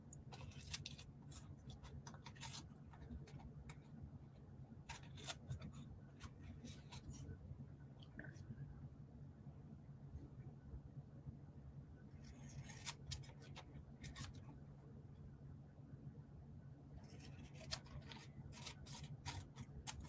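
Scissors trimming the edges of washi tape receipt paper and Yupo cards: faint, close, irregular snips and paper rustles scattered over a quiet room hum, with no voices.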